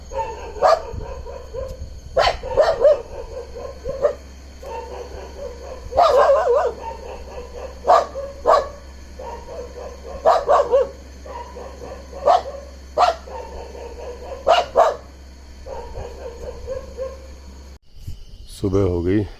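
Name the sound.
dogs barking at night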